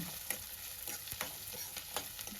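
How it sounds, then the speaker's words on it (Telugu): Onion and curry leaves frying in hot oil for a fish curry, a soft continuous sizzle with a few light stirring scrapes, close but fairly quiet. "కాగాక ఆనియన్ కరివేపాకు వేసుకొని కొద్దిసేపు వేయించుకుందాం"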